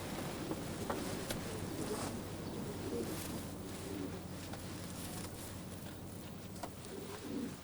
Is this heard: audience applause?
no